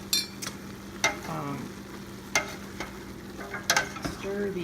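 Lean ground turkey browning in a pot, a soft steady sizzle broken by repeated sharp scrapes and clinks of a spoon stirring against the metal.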